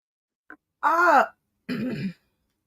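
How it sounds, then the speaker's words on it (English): A person clears their throat twice with gravelly, voiced rasps, close and fairly loud, separated by a brief silence. "Let me clear my throat."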